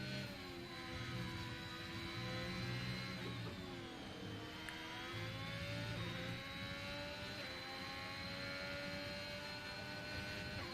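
Ferrari Formula 1 car in F1 2021, racing at the Austrian GP, its engine a loud continuous high-pitched whine rising and falling through gear changes, with another car's tone briefly overlapping.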